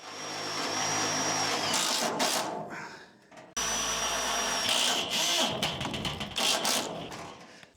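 A power drill drives self-tapping screws into the deflector of a hay mower, with bursts of whirring broken by a short pause and clattering handling sounds nearby.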